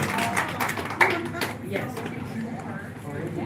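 A small audience claps for the first finished candy cane at a candy shop, scattered quick handclaps under a person speaking and background chatter.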